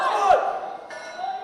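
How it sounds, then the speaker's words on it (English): A powerlifting crowd at the Scottish Powerlifting Classic Championships 2023 yelling and cheering for a lifter, a short burst of loud mixed voices with a shout rising then fading, fairly close. "A lot of support in the crowd."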